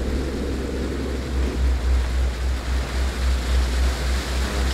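Waterfall water in the Fatal Frame video game (Wii U, Maiden of Black Water), a steady broad rushing wash with a low pulsing rumble underneath, constant and moderately loud, with no voices.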